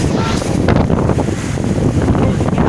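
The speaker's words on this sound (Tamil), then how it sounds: "அடிக்குது காற்று" Strong wind during a heavy rainstorm in Gudiyattam roars steadily and loud against the microphone, a dense continuous buffeting rush with no pauses and no talk.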